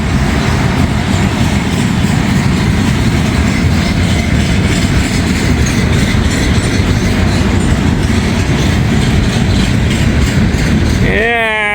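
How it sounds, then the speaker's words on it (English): A freight train carrying steel coil cars rumbles past close by, its wheels clattering in a continuous clickety-clack, with a voice talking over it near the end. "This might as well be a slab train."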